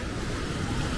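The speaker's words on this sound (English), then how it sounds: "I'm actually avoiding the waves too" Ocean waves roll in at Mismaloya Beach in Puerto Vallarta, a steady close wash of surf mixed with wind buffeting the microphone, with no talking.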